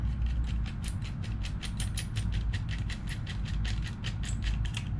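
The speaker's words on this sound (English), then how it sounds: "let me actually screw the top piece together so that it stays together" A screw being turned by hand into the top piece of a T-70 X-Wing model, giving a steady run of rapid ratcheting clicks and creaks at close range with no speech.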